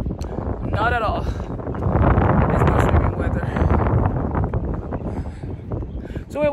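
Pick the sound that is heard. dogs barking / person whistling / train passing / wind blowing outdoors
wind blowing outdoors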